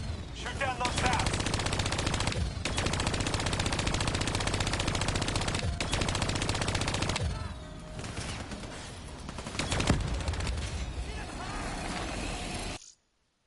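Turret machine-gun fire in the shooter Black Ops III after the turret is hijacked. Long continuous bursts are broken by short pauses and a louder crash near the end, with faint speech under the shooting.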